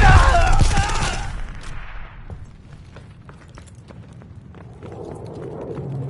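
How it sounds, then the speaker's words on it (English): Enemy strafing run in a video game: a brief loud voice line opens, then rapid, sharp gunfire cracks rattle on at a moderate distance, thinning briefly before the firing picks up again toward the end. "Enemies called a strafing run!"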